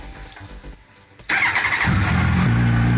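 A 2000 Kawasaki ZX12R sport motorcycle engine on a 13-volt lithium battery cranks briefly, then catches and settles into a loud, close, steady idle.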